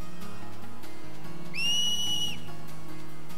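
Piercing finger whistle used in Final Fantasy X to cheer on Blitz players, one steady high tone lasting under a second, clear and loud above quiet game ambience.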